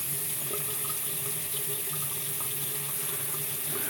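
Cold water runs from a tap into a sink in a steady, continuous stream, close by and alone, with an even hiss throughout.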